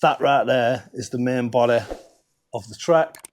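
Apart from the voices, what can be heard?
No everyday noises stand out.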